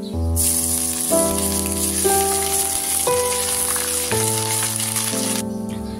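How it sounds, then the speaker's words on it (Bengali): Ginger paste sizzles in a pan for bhoger khichuri, a steady bright frying hiss that runs under louder background music with shifting chords. "আদা বাটা একটু কষানো হয়ে গেছে"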